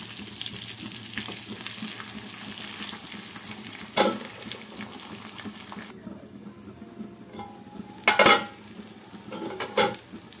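Bajji mirchi masala curry cooks over a low flame in a pan with a soft, steady bubbling sizzle. It is stirred now and then, giving a few louder scraping clinks of the spoon against the pan, heard up close with no talking.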